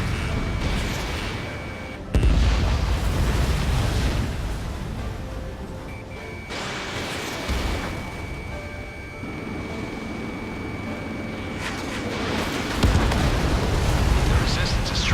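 Missiles launch and explode during aerial combat in the video game Ace Combat 7, with loud, roaring blasts and a steady jet-engine rumble throughout, broken by sudden bursts, and radio voices occasionally heard.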